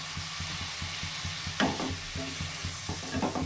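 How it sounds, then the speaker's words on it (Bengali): Fish curry spices stir-fried with a splash of water for a thin live foli fish jhol, a steady sizzle under rhythmic spatula scrapes and taps, close and moderately loud, with no talking. "আর একটু জল দিয়ে কষাবো।"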